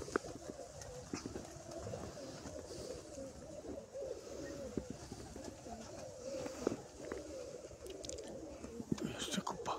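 Pigeons coo in low, soft, repeated calls close by, mixed with wing flutters and light rustling, while someone talks quietly over them.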